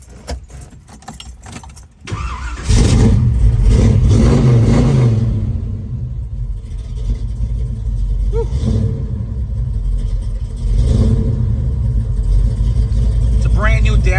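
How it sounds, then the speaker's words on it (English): A 1970 Chevrolet Chevelle started with a key: keys jangle, then the engine fires and settles into a loud, steady idle with a slight rev, a voice speaking over it. "Car sounds real healthy."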